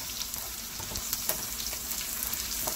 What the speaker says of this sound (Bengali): আমরা রসুন ভর্তার জন্য রসুনগুলাকে ভেজে নিব।